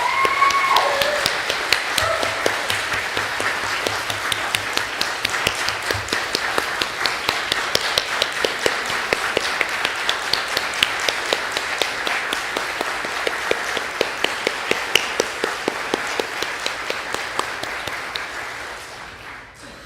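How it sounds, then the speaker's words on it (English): A congregation at a Sunday service gives Katy a long round of applause, with dense steady clapping from many hands that slowly thins and fades toward the end. "Let's all give Katy a great big round of applause."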